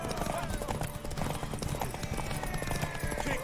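Hoofbeats of a galloping horse racing in The Witcher 3, a steady rapid clip-clop thudding close and continuous, with voices and game sound layered over it.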